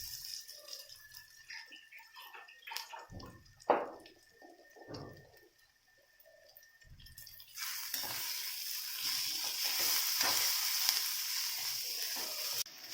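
Onion and garlic fry in oil, a quiet patchy crackle with a few bumps and clatters early on, then a louder, steady sizzling hiss over the last five seconds.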